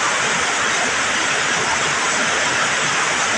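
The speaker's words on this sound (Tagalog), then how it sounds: "Dito malakas ang agos." Strong floodwater current from heavy rain rushes steadily through a flooded workplace, a loud continuous broadband roar with no break across the whole stretch.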